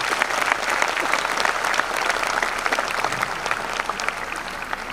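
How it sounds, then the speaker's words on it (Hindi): Loud, dense audience applause for performers at an Independence Day celebration in 2023, a continuous wash of many hands clapping with crowd noise, sustained and even throughout. "तो इन सभी के लिए एक बार जोरदार ताली बजा दीजिए आप।"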